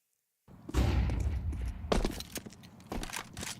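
Counter-Strike rifle shots fired at flying targets during a BLAST Bounty Malta esports match, a few sharp cracks spread across a short burst with thuds between, close and loud.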